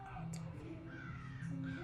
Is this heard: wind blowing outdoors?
no